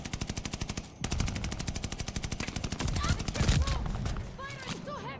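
Heavy rapid gunfire in a Call of Duty Vanguard multiplayer match, dense automatic bursts pounding steadily and loud, joined by whizzing ricochet-like effects and overlapping shots throughout.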